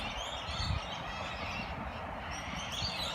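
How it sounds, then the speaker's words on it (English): A dense chorus of bird calls fills the air in a botanical garden in Queensland, Australia, with a turkey-like gobbling standing out among steady outdoor chatter. "Very, very peaceful, a lot of birds."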